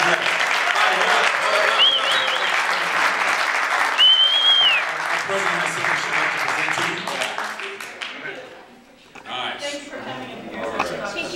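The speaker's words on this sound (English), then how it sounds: "Let's give a round of applause for Bob." Sustained audience applause at a Monarch Beach Sunrise Rotary meeting welcoming a guest speaker, loud, dense clapping for about eight seconds, with chatter and a brief whistle, then fading into room murmur and voices.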